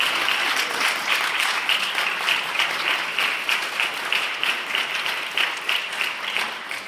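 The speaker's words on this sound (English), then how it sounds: "Big round of applause" An audience at a winter meeting of the OBDA bursts into a long round of applause, dense steady clapping filling the room for several seconds, loud and sustained, fading slightly toward the end.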